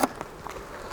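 Honeybees shaken from a hive box down into a split hive buzz in a close, steady drone, with a few brief knocks near the start.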